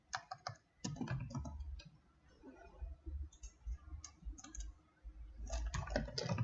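Key clicks on a computer keyboard as a command is typed into a terminal to launch Jupyter Notebook, coming in quick bursts at start and end with a sparser, quieter stretch in the middle, close and fairly faint.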